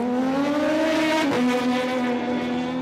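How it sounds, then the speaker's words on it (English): Racing motorbikes on the Isle of Man TT road course roar close by in one loud, continuous engine whine that drops sharply in pitch partway through, then holds steady. "it can make things like this happen, which is racing motorbikes around the roads"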